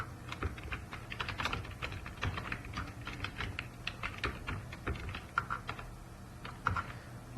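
Fingers tap steadily on a computer keyboard for several seconds, a quiet, irregular run of close clicks with occasional louder keystrokes while a password is entered.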